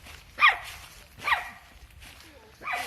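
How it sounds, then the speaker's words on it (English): Dogs at a dog park barking in three separate sharp bursts spread out over a few seconds, at moderate distance, against quiet outdoor background. "Oh, more dogs."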